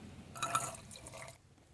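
Water running briefly while a camper van's freshwater tank is refilled, a soft trickling splash lasting about a second, faint and nearby.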